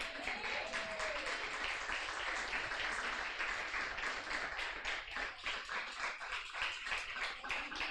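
A church congregation at a worship meeting claps along in a steady rhythmic beat, the close, sharp hand claps repeating evenly over a soft murmur of voices.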